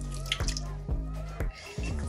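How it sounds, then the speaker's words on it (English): Marinade is poured onto blesbuck meat, making a few faint wet drips and splats over a steady low hum. "So I'm going to pour it on."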